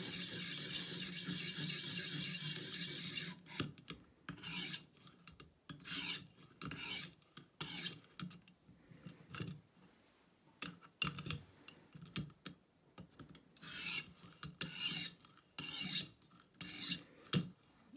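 A knife is drawn across a sharpening stone to remove the burr, giving close, dry rasping strokes: a long continuous scrape at first, then a run of short, separate swipes with quiet gaps between them.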